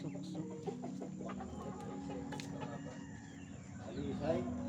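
Chickens cluck and chatter nearby in short, repeated bursts over a low background hum, with a louder squawk near the end.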